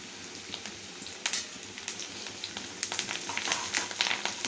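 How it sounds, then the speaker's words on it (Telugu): Curry leaves sizzling in hot oil for a tempering, a dense close crackling hiss with pops that grow busier and louder toward the end. "ఇందులోనే కొంచెం కరివేపాకు కూడా యాడ్ చేస్తున్నాను"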